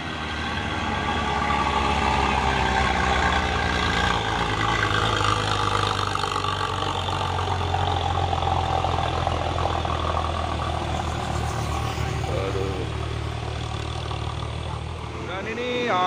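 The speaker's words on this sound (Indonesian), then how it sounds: "Masuk terus truk molen." A concrete mixer truck rolls in with a steady, rumbling diesel engine drone, other heavy trucks idling nearby in busy roadside traffic, while people talk over the noise.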